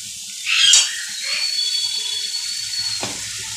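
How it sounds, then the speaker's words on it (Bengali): Spice paste fries in oil over low heat in a pan, a steady soft sizzling hiss with a brief louder flare near the start. "এবার ভালো করে মশলাটা যতক্ষণ তেল না ছাড়বে ততক্ষণ অল্প আঁচ দিয়ে কষিয়ে নেব।"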